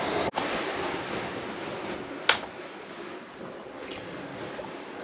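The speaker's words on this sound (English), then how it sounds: "The wind is busy dying down." Steady broadband wash of wind and ocean waves aboard a sailing yacht crossing from the Bahamas toward Puerto Rico over the Puerto Rico Trench, with a couple of brief knocks, continuous and fairly even throughout.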